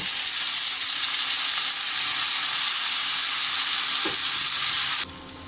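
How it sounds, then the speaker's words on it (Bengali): Shredded cabbage fries in hot oil with turmeric and salt, giving a loud, continuous bright sizzle close by that drops off sharply near the end. "অল্প করে একটু হলুদ দিয়ে দেব আর একটু লবণ দিয়ে দেব দিয়ে আমি বাঁধাকপিটা ভেজে নেব"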